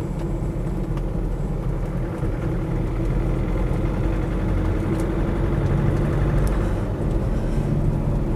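An original factory 300 TDI diesel engine in a Land Rover Defender truck cab runs steadily, with a continuous low rumble and drone heard from inside the cab, and no talking.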